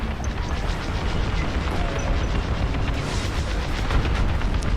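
A destroyed cruiser blowing apart in the space combat game Star Wars Squadrons, heard as a dense, continuous roar of explosive rumble and crackling bursts, loud and sustained throughout without any speech.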